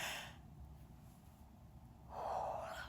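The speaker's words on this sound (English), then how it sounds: "I'm sorry for yawning so much." A person yawns, with a long breathy exhale at the start and a louder, drawn-out vocal yawn near the end, close and alone with no talking.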